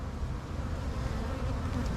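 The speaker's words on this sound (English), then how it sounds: "That's a nice looking box of bees." Honey bees swarm and buzz around an open hive box during an early-season colony inspection, a dense, steady close-up drone filling the whole clip with no voices.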